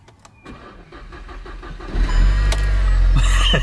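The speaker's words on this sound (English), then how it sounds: "hear that amazing startup of a stock MK7 GTI exhaust" After a few quiet clicks, a stock MK7 VW Golf GTI engine cranks and catches, rising into a deep, loud, slightly rattly idle rumble with a raspy exhaust, heard close.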